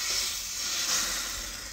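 Soaked cheap bread for duck egg pumpkin spice French toast sizzles steadily in a buttered pan, a continuous soft hiss with no talk over it.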